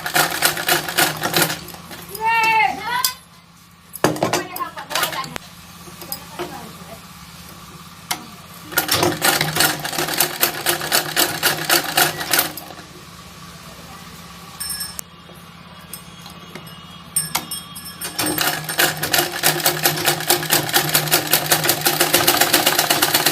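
A domestic sewing machine stitches small fabric scraps into a decorative back panel, with several close bursts of rapid mechanical whirring and stops in between. A voice is briefly heard near the start, and a longer, denser run of stitching comes at the end.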